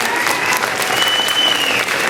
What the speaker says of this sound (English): How about a big round of applause for our teachers today?